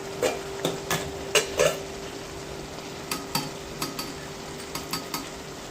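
A pot of tofu biryani bubbles softly with a low simmering hiss, punctuated by a dozen sharp clinks and scrapes of a spoon stirring against the metal pot, close and fairly quiet.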